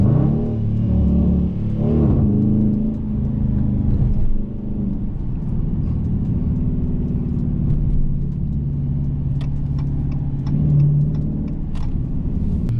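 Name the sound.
Dodge Challenger R/T engine accelerating on freeway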